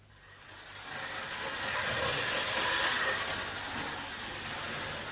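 Trains run past in a broad rushing, hissing roar that swells to a peak and then holds steady, with no voices.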